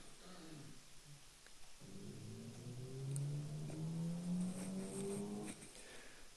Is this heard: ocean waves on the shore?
no